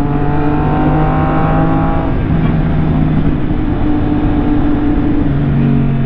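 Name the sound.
Suzuki GSX-S1000 motorcycle engine on a ride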